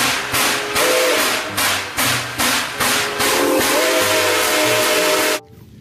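A toy train lets out a hissing steam-style whistle, rapid rhythmic puffs of breathy noise with a thin whistle tone rising over them, loud and close, cutting off abruptly at the end.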